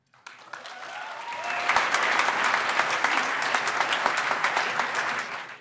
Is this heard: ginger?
no